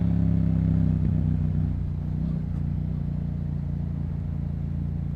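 A Yamaha MT07 motorcycle on a twisty road ride, its engine droning steadily and loudly, easing slightly after the first moments, with rumbling wind and road noise and no talking.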